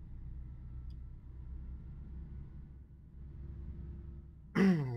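Bus engine heard from inside the cabin in a driving game, a low steady rumbling drone throughout, ending with a sudden brief louder whooshing burst.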